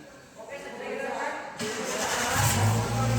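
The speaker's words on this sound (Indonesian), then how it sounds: "selanjutnya kita starter mobil." A car's engine is started during light vehicle maintenance: quiet shop ambience, then the starter engages and the engine catches with a sudden rise in noise and settles into a low, steady running hum.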